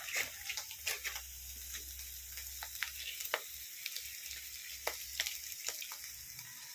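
Soaked oats tipped into a hot pan for a Kerala oats biriyani sizzle and crackle steadily, with scattered sharp spits and stirring scrapes over a low hum, close and fairly loud.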